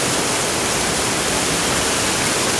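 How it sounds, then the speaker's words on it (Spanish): A storm-swollen stream rushes beneath the Avenida San Martín bridge the day after a storm, a dense, loud, unbroken roar of water filling the whole stretch with no voices. "Fíjense cómo ha crecido el nivel del arroyo."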